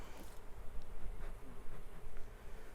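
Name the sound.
honey bees buzzing around a queen cage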